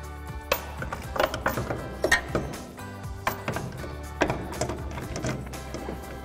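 Nuts are started by hand on the studs of an upper strut mount for a 2007-2018 Silverado 1500 front lift, giving close, irregular metallic clicks, ratcheting ticks and soft thunks, with no talking.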